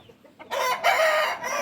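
Young roosters being raised, one giving a loud, close crow lasting about a second after a brief quiet start, with no talking.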